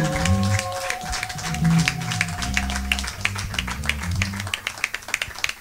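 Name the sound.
congregation applauding and acclaiming God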